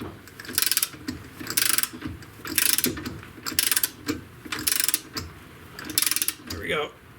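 A torque wrench ratchets in regular bursts while tightening front suspension bolts on a 1994 Mazda Miata, each clicking stroke loud and close, with short pauses between strokes and a brief creak at the end.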